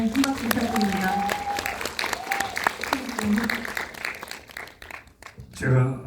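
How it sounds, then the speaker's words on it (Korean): Moviegoers at a guest-visit screening of Exhuma, with actor Choi Min-sik and director Jang Jae-hyun present, applaud steadily under voices, the clapping thinning out toward the end. "네, 한 박수 부탁드립니다."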